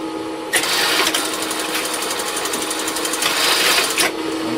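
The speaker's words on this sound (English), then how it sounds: "We sew the bottom chin to the face." A sewing machine stitching the bottom chin piece onto a small puppet's face, a steady fast mechanical whir and rattle that starts abruptly, runs close and even for about three and a half seconds, then stops.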